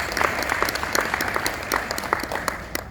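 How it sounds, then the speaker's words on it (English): Conference audience at a law business panel discussion applauding a panelist, a dense burst of many hands clapping with individual claps standing out, steady and fairly close for the whole stretch with no talk. "so please a round of applause for Fiona."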